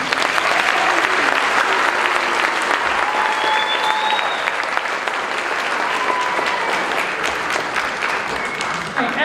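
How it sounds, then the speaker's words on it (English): An audience at a middle school spring concert claps steadily and loudly for the school jazz band, a dense sustained round of applause with a few whistles mixed in. "Can we get one more round of applause for our jazz band?"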